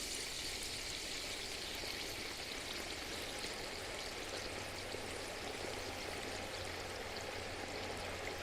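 Hot oil drains off a deep-fried turkey back into the fryer pot outdoors at night, a faint, steady, continuous pouring hiss with no talking.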